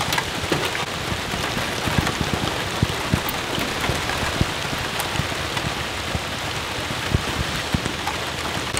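Steady rain falls outdoors during a fly fishing trip, a dense even hiss of drops with scattered sharper taps on nearby surfaces, continuous throughout and without voices.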